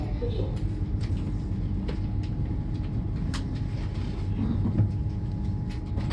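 A passenger train on a trip between Wisbech and Skegness pulls away. A steady low rumble and rolling rail noise fill the carriage and continue at an even level throughout. Faint voices can be heard inside the coach.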